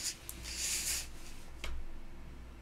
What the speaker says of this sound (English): So when I cut, I'm going to make sure that I cut inside of the line that I drew for you guys